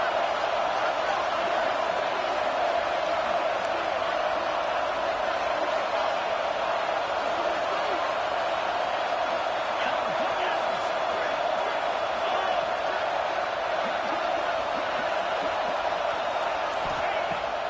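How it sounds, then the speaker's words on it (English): A dense, constant roar of a stadium crowd fills a college football video game (NCAA CFB 26), loud and unbroken with no distinct cheers rising out of it. "This crowd bringing the energy and noise early."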